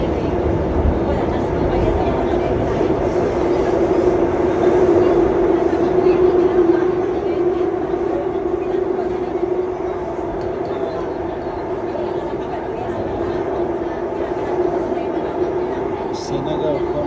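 A long, crowded Singapore MRT train running, heard from inside as a continuous low rumble with a faint whine, steady throughout, with a voice talking over it.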